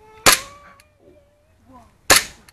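Two sharp gunshots about two seconds apart, loud and close, each with a brief ringing tail, with faint tonal sounds between them.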